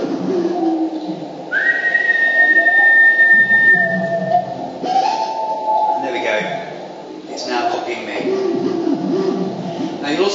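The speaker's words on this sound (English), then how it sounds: "if I can whistle just at the right time, I'll get it to copy me instead." A person whistles short tonal notes to a cockatoo, under a steady background wash, with a sustained whistle near the start and further whistled phrases later; people talk throughout.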